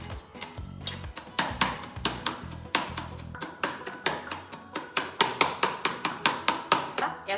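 Ingredients for Manchurian are crushed finely with a drinking glass, a repeated series of sharp, close knocks and thuds in an irregular then steadier rhythm, with no talking.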